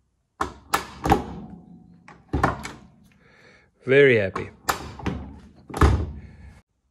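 A Porsche 924 car door with a newly installed handle shuts in a few solid thunks spread through the clip, interleaved with someone talking close by.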